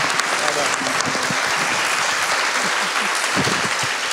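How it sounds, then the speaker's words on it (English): Steady, dense applause from an audience at a university college event opening a book collection, loud and continuous throughout with a few voices mixed in. "So a big round of applause to the students who made this possible."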